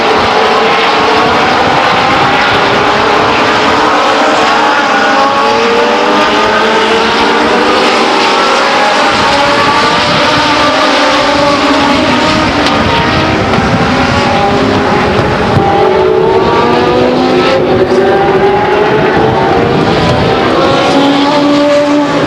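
Race cars at Stockton 99 Speedway in 1999, a dense, loud roar of several engines sweeping past and revving continuously at close range, with no talk audible over the noise.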